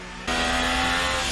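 A Formula 1 race car engine in the F1 2020 game, racing at Istanbul for the Turkish GP, snaps into a loud, steady high-pitched drone that holds on after a brief quieter moment.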